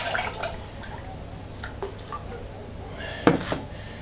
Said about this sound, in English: Now I'm going to pour that on the inside.